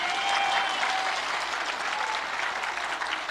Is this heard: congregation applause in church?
yes